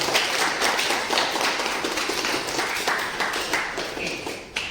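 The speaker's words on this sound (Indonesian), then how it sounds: "Tepuk tangan buat kita diri kita sendiri." A group claps for themselves in steady, continuous applause, many hands clapping together close and loud throughout.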